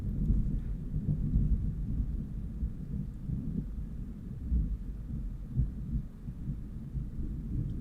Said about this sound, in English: The house is shaking.